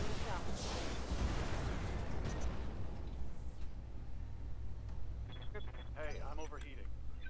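Mech weapons firing in the Roguetech video game, a dense continuous barrage of blasts and rumbling impacts throughout, with game chatter and talk over it.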